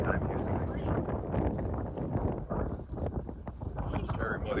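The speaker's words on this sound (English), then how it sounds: "it is fairly windy right now" Gusty wind buffets the microphone in low rumbling bursts, loud and close, with faint background noise underneath, at a winter campsite.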